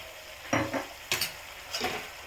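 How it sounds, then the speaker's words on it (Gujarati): Manchurian sauce with tomato sauce and vinegar is stirred in a hot pan, giving a soft sizzle broken by three or four quick scraping strokes of a spoon, close and fairly quiet with no talk. "આ બધું જ આપણે હવે હલાવી દઈશું."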